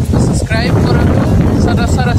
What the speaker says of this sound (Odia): ମୋବାଇଲ ଉଡ଼ିଯାଉ ଯେତିକି ପବନ